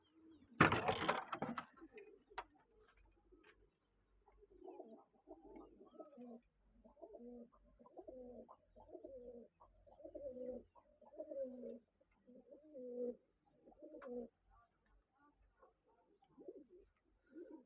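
Loft-kept ornamental pigeons give a run of rhythmic, throaty coos in regular pulses, close and clear, after a brief loud rustle at the start, with almost no talk.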